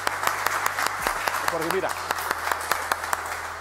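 Sparse, irregular applause from a small audience at a family magic show, a few scattered claps under someone talking, with a low steady hum underneath.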